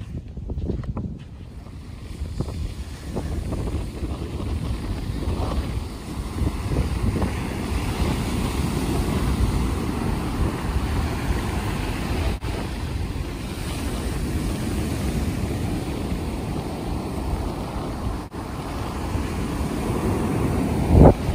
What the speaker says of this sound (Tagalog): Dito palang maririnig mo na yung alon.